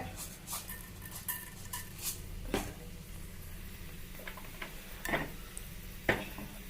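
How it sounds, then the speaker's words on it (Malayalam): Scattered small pops and crackles of mustard seeds popping in hot oil sound at irregular intervals over a quiet background hiss, faint and close by. "അങ്ങനെ നമ്മളെ കടുക് പൊട്ടുന്നുണ്ട്"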